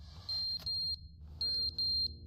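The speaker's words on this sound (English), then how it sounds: "Oh, what's that beeping?" Electronic fire alarm in the video game The Stanley Parable sounding short, shrill beeps in uneven bursts over a low background drone, with no talking.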